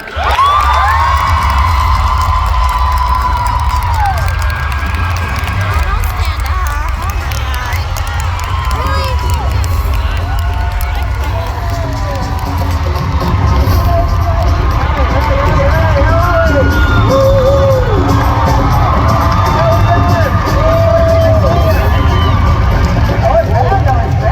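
A large crowd at an event cheers, whoops and shouts loudly and continuously as Terri and Robert Irwin come on stage, with children's yells and excited chatter woven through the dense roar.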